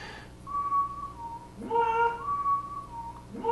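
A thin, steady whistled tone holds a pitch, breaks off, then returns in longer sustained phrases, moderately loud over a quiet background.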